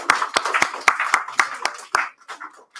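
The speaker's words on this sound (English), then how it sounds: "please join me and give a round of applause to your rabbis and staff and your parents" Sparse, uneven hand claps ring out at a school year-end event, sharp individual slaps in a loose rhythm rather than a full ovation, fading after about two seconds with faint voices underneath.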